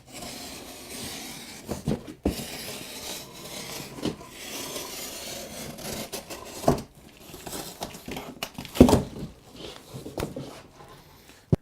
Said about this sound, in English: Finally, cut down the side of the box to reveal the tree encased in plastic.